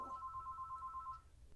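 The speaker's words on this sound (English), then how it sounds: "sorry about that phone ringing" A telephone rings with a steady electronic trill of rapid repeated pulses, faint and somewhat distant in a quiet room, stopping after about a second.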